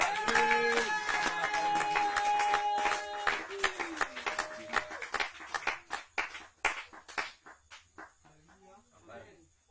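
A church congregation at an evening service applauds in loud rhythmic claps that thin out into scattered, fading claps, with a voice and music under the start.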